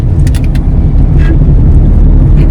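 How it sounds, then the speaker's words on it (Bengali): Inside a car on the drive to a Ratha Yatra fair in Kaliyaganj, a steady low engine and road rumble fills the cabin continuously, close and fairly loud, with a few faint higher rattles and no talking. "এই যে বাবা ড্রাইভিং করছে।"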